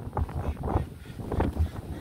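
Gusty wind buffeting the microphone in uneven bursts at a lakeshore, with low rumbling thumps and faint voices mixed in.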